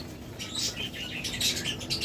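A pair of pet lovebirds gives bright, rapid chirps and tweets up close, with a soft flutter of wings beneath the calls.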